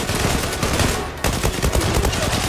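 Rapid AK-47 gunfire in the video game Zula rattles almost continuously in loud, dense bursts, with a brief break partway through before the shooting resumes.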